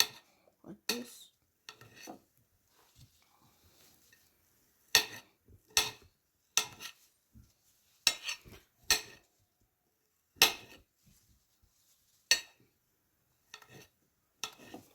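A knife slices through grilled chicken strips on a hard surface, giving a run of sharp, separate clacks and taps at irregular intervals with quiet gaps between them. No one talks.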